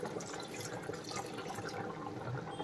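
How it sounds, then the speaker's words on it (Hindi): A glass of water poured into simmering chicken korma to thin the gravy, a soft, continuous trickle and splash heard faintly and close, with no talking. "अब है सो इसको थोड़ा पतला करने के वास्ते 1 ग्लास पानी डालेंगे"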